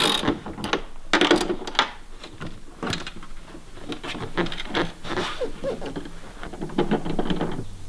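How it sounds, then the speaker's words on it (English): Wrench work loosening 14 mm nuts on the seat rails of a BlackHawk LowBoy III paramotor, a run of close, irregular metallic clicks, ratchet ticks and small clanks with short pauses and no talk. "you may need to go ahead and loosen these nuts right here to give you enough clearance to get that bolt out"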